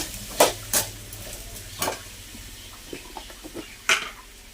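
Beetroot fries in a pan while a spoon stirs it, with a low sizzle underneath and a few distinct scraping knocks of the spoon against the pan at irregular moments.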